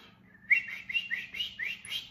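A person whistling to call a dog, a series of about six short rising, chirpy whistles in quick succession, fairly close and clear over a faint low hum, with no talking.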